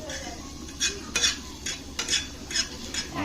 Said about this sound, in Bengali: গোলাপ ফুল ভাজা হচ্ছে